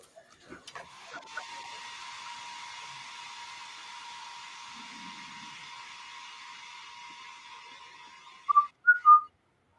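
A failed attempt at whistling produces a long, breathy, airy hiss with a faint tonal edge lasting several seconds, ending in a few short, squeaky tonal chirps.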